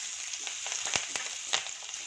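Cashews, chopped green chili and curry leaves sizzling in hot oil, a bright crackling hiss with a few quick stirring clicks, close and fairly quiet, no speech.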